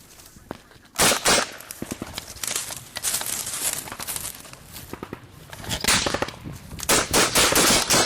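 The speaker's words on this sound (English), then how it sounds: "His rifle seems to be working properly." Rifle fire in a firefight with the Taliban, sharp cracking shots in irregular bursts, some rapid and clustered, others spaced apart, loud and close amid rustling movement.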